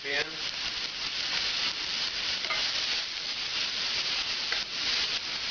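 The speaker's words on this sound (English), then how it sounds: "Now, right away to the same hot pan, we're going to add the mirepoix, carrots, celery, onions." Mirepoix of carrots, celery and onions sizzles loudly in a hot pan just used for ossobuco, with continuous stirring and scraping to deglaze the brown bits, a dense close frying hiss throughout.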